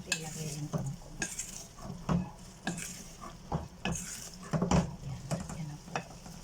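Water spinach is added to sautéed eggplant in a pan and stirred, with a utensil scraping and clinking against the pan in repeated strokes over a steady soft sizzle, close and moderately loud.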